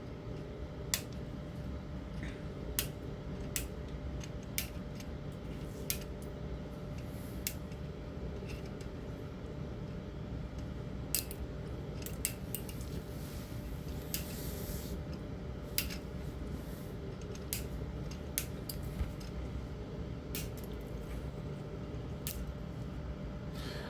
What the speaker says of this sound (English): Once they are soldered, I trim the extra legs again to keep everything clean